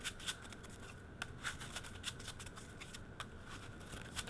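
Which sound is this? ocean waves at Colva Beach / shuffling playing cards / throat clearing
shuffling playing cards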